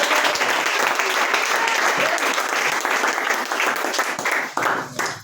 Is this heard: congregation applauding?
yes